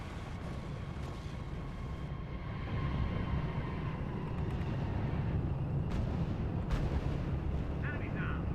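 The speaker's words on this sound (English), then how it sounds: "Sir, the Field Artillery Battalion is opening fire." Field artillery battalion firing in R.U.S.E., a steady low rumbling barrage of distant booms under a dense battle din, growing louder partway through with a few sharper cracks near the end.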